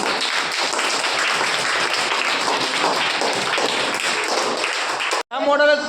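An audience bursts into dense, sustained applause, loud and continuous for several seconds, then cuts off abruptly, followed by a brief bit of other sound.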